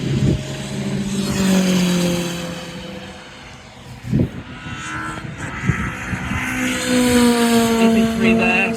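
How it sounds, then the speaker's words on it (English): A Renault Megane RS 250 passes at a Donington Park track day, engine tones rising and falling as cars sweep by at a distance, with several engines overlapping and no speech. "here comes the Megane RS 250. You can't really hear that at all, it's not a very good sounding car"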